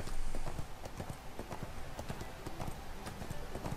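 A horse's hooves clip-clop in a steady, quick rhythm in the online game ArcheAge, fairly close and moderately loud over a soft game background.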